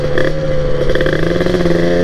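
A two-stroke Kawasaki Ninja KIPS with a Superkips block revs nearby, a loud, steady buzzing engine note held through the moment with no talk heard.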